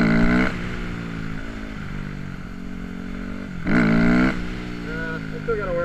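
Yamaha WR250X supermoto engine held at a steady high rev, with a sharp surge near the end as the clutch is worked for a clutch-up wheelie attempt. The engine is close and loud throughout.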